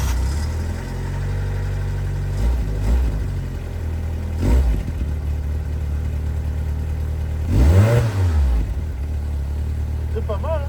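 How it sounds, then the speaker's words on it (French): Fiat Punto Cabriolet engine with a weak battery starting cold and then revving, a steady mid-pitched idle with a few short throttle blips and one stronger rev that rises and falls, close by under occasional talk. "on aura fait un petit démarrage à froid comme ça"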